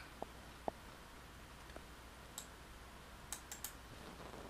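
A computer mouse gives a few faint, sharp clicks at uneven intervals in a quiet room, including a quick double-click pair near the end.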